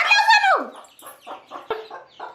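A hen guarding her chicks at a village house clucks near the listener, opening with a loud drawn-out call followed by a run of short, rhythmic clucks.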